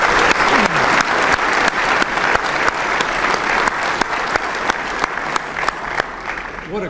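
Applause at the North Texas Catholic Men's Conference, loud, continuous clapping from a large crowd with a few sharp individual claps standing out and a faint voice briefly audible beneath.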